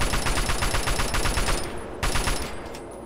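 Rapid automatic gunfire in Fallout 3, a dense stream of close, loud shots that keeps a steady rhythm for about three seconds, with a short break before it resumes.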